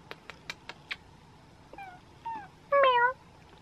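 A cat meows several times, starting with short chirpy calls and ending in a louder, drawn-out meow, close by with no talking.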